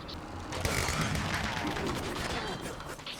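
Firework arrows fired in Minecraft Dungeons, a dense crackling volley of bursts and mechanical clicks running steadily from start to finish at fairly close range.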